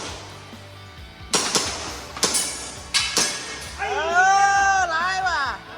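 Several sharp airsoft gun shots at an IPSC Action Air shooting event, spaced irregularly over a few seconds, close and fairly loud, followed by people talking excitedly.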